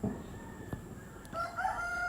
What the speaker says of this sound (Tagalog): Kasi dami manok sa bahay. Kahit mag voiceover ako, naririnig siya.